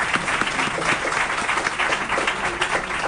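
An audience applauding in a hall, a dense even wash of many hands clapping that carries steadily through the whole stretch, moderately loud and fairly close.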